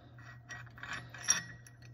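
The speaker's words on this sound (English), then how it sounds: "There we are, we got our clutch bolt out." A socket wrench backs out the clutch bolt on a motorcycle, giving soft quick ratcheting clicks in short bursts over a low steady hum, close and quiet with no talking.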